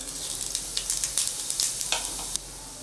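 Cumin seeds sputter in hot oil in a pan, a close crackling sizzle with quick popping bursts, steady throughout and with no talking.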